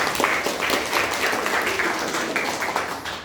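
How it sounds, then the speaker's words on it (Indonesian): A class claps in continuous applause, a dense, even patter of many hands lasting a few seconds. "berikan tepuk tangan untuk Joshua."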